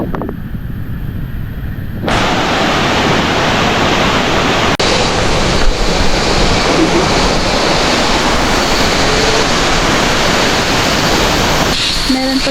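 Shifen Waterfall on Taiwan's north coast: a loud, steady roar of falling water close by, with a broad rushing hiss that fills the whole clip.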